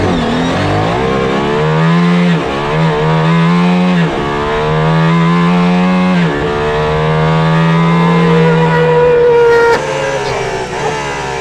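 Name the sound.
Aston Martin Valkyrie engine noise accelerating, heard inside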